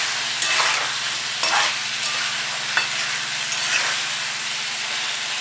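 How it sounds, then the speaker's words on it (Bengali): Tomato and Kashmiri chili powder masala sautés in a pan for a fish and cauliflower curry, a steady loud sizzle with a few sharp spatula scrapes and stirs scattered through, no voices. "টমেটো আর কাশ্মীরি লঙ্কা গুঁড়ো দিয়ে মশলাটাকে আর একটু ভালো করে কষিয়ে নেব"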